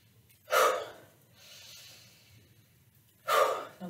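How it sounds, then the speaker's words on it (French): Two quick, sharp inhalations high in the chest during a yoga breathing exercise, close and breathy, separated by a quieter exhale, with no talking. "on monte dans une inspiration haut dans la poitrine"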